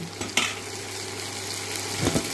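Tindora (ivy gourd) poriyal sizzles steadily in a pan while being stirred, a soft continuous frying hiss with a couple of faint utensil taps.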